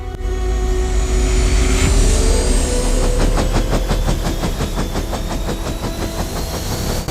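A modern naval helicopter flies close by at a base in southern Spain, a loud, steady engine roar with fast rhythmic rotor chopping that grows more pronounced partway through.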